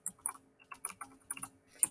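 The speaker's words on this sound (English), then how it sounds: "I'm just going to type simple interest." Quiet, close keystrokes patter on a computer keyboard in short uneven bursts of clicks with small gaps between them.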